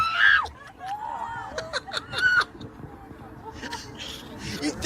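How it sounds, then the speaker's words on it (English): Passengers on a Delta flight scream and shriek in bursts over a loose pigeon in the cabin, mixed with nervous laughter and overlapping chatter, loud and close. "Let's hear some screams on a Delta flight as a loose pigeon is snuck its way on board."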